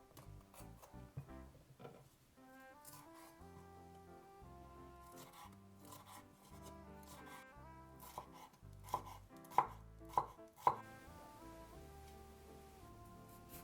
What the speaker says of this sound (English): Cut a small piece of red pepper into cubes.